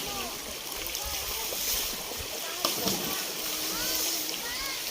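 Water splashes and sloshes at a crowded stream in a rural province, with people playing in it. The splashing is steady and moderately distant, with a sharper splash near the middle, under continuous chatter and voices.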